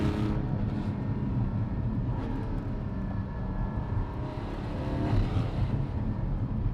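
A Porsche 718 GT4 driven on a canyon road gives a deep, continuous engine and exhaust rumble from inside the car, steady with slight swells in throttle and no talking.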